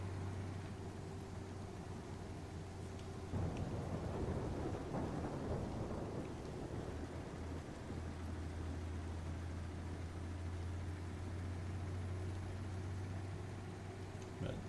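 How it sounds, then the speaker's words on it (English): Rain and rolling thunder around a Ford LTL 9000 truck in American Truck Simulator, a steady hiss of rain with a low engine drone throughout and a long thunder rumble swelling in the middle before fading. "And that'll let you listen to the truck in the rain a little better."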